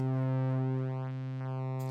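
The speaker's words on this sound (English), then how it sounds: "We get that beautiful warped sine sound, which is really, really cool." A warped sine tone from an Audio Damage Continua synth drones steadily and alone, its pitch bending and sweeping in short chirping glides over a constant hum.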